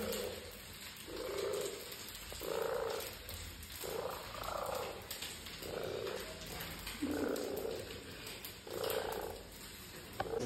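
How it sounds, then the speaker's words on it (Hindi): Three or four cats kept indoors purr steadily and close, a low rhythmic rumble rising and falling with each breath over faint background hum. "यहाँ पे बिल्ली रखी हुई है, तीन चार बिल्ली है।"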